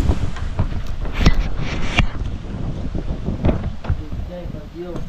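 Strong wind buffets the microphone in rough, rumbling gusts during an outdoor meal, with some indistinct voices and clatter mixed in.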